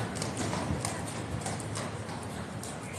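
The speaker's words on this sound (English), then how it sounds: "horse in the box is not having a fun time. I can hear him clopping around a little bit" A horse with the King's Troop Royal Horse Artillery shifts around in its box on cobbles, its hooves clopping softly and irregularly against a steady background hiss.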